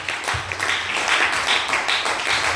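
A church congregation claps in rhythm, a run of quick, evenly spaced claps that blend into a steady patter.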